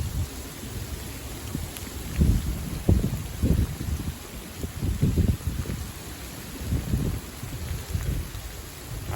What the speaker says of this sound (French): Pour l'instant c'est de la grêle.